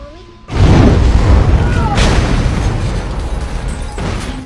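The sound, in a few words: car explosion in a film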